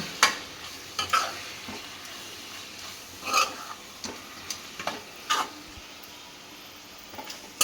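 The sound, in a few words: stirring vangi bath powder and chili powder into the pan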